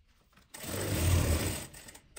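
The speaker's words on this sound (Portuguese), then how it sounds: "Vou colocar ele pro outro lado, pelo outro lado pra costurar, pra não ceder." A sewing machine stitches lining fabric, a steady close whir of fast needle strokes starting abruptly after a quiet moment and running for over a second before stopping, with no talk.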